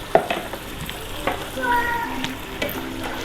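A kilo of yogurt stirred into Sindhi biryani masala in a pot over heat, giving soft wet scraping and sloshing strokes with a faint sizzle beneath, close and moderately loud.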